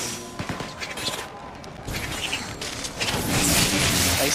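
Video-game gunfire from vampires in inFamous: Festival of Blood crackles in short, irregular bursts of sharp shots over a dense, noisy battle background that grows louder toward the end.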